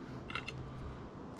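Scissors snip through strands of pearl crystal flash for a fly-tying wing, a couple of quick, faint close cuts set against a low background hum.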